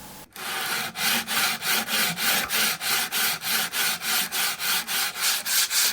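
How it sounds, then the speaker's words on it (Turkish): Rhythmic rasping strokes of a scraper and adze hand-carving a wooden kemençe body, about fifteen even scrapes in a steady back-and-forth rhythm, close and loud with no speech. "Biz şimdi skarpile ile keserle yapıyoruz."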